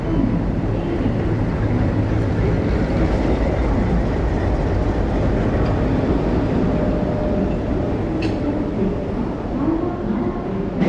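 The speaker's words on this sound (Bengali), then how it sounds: "পৌঁছে গেলাম হাওড়া স্টেশনের ভিতরে" A steady low rumble of trains in Howrah railway station, constant and enveloping, with faint crowd murmur and an occasional brief clank.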